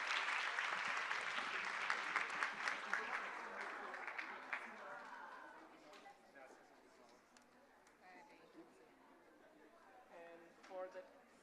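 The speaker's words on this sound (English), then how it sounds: "A big round of applause, please." Audience applause at a youth-led education summit, loud full clapping at first that thins and fades over several seconds into scattered claps and murmuring crowd chatter.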